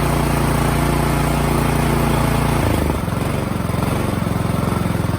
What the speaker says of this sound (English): Choke is off, no more surging. Running nice and smooth,